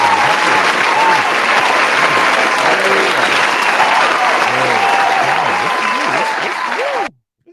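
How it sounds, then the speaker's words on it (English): Podcast studio audience claps and cheers loudly for about seven seconds, a dense continuous burst with whoops rising above it, before cutting off abruptly into silence. "Clap it up for yourselves."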